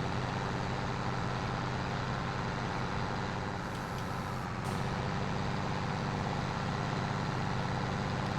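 A 500-horsepower tractor in Farming Simulator 22 drones with a steady, dense engine hum, constant and fairly loud throughout, with a brief higher tonal change partway through and no talking.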